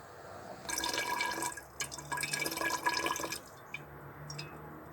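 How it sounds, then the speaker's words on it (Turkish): Water is poured into formaldehyde solution in a lab vessel, a close trickling stream lasting a few seconds, then a few faint drips. "Önce 22 gram formaldehit çözeltisine 18 ml su ekliyorum."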